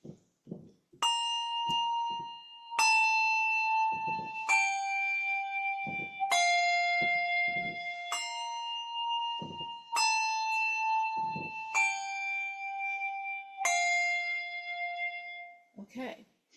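Handbells ring in a weaving pattern, eight clear, bright strikes spaced evenly at shifting pitches, each ringing on with a shimmering decay.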